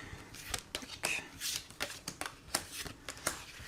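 A deck of tarot cards shuffled by hand for a reading, a close, soft run of quick riffling flicks and papery slaps in an irregular rhythm, fairly quiet with no talking over it.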